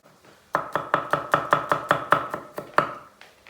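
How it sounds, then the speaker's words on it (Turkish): A knife chops raw garlic on a cutting board, about a dozen crisp, evenly spaced strikes close up, no talking. "Bir tane de çiğden sarımsak doğradım."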